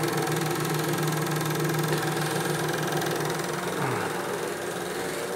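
A sawmill engine runs steadily and close, a dense mechanical drone that holds its pitch and then drops as the engine slows down.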